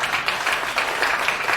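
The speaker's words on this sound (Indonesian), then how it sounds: "Kita berikan tepuk tangan tadi." Audience applause at a church breakfast meeting, a steady, moderately loud wash of many hands clapping throughout, with no voices over it.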